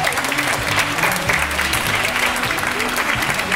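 A crowd claps at an open-air Pro-Am ballroom dance event in Kyiv, producing a loud, sustained burst of applause throughout, with faint low murmuring beneath it.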